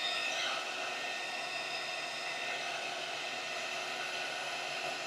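Heat gun blowing hot air over a vinyl topo overlay, a steady close whooshing hiss with a faint whine that holds evenly throughout, with no talk.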